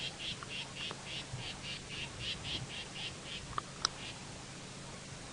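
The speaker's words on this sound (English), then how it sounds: "the southern black tit that is mobbing those owls, making a lot of noise" Southern black tits call repeatedly while mobbing owls in the bush at sunrise, a rhythmic run of sharp chirps at moderate distance followed by a couple of louder isolated notes.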